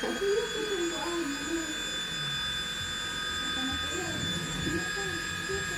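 A vacuum cleaner runs steadily with a high whining tone throughout while children and an adult talk over it.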